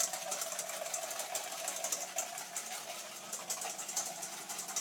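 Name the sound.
whisking egg yolks for butter beer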